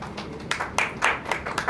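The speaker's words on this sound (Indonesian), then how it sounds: "Tepuk tangan" A handful of sharp, sparse claps ring out in a small room at a press conference, a short burst of applause from a few people with no cheering.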